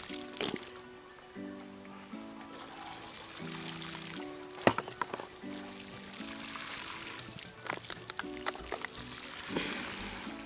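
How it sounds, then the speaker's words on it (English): Water seeping and draining through a vermicompost bed, a soft continuous trickle and pour with wet squishing, accompanied by intermittent musical tones and occasional clicks. "you can see the drainage, everything just seeping through."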